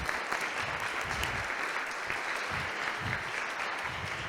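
Audience applause after a game design talk at Tequila Works, a steady wash of clapping from a live crowd that holds at an even level throughout, with no voices over it.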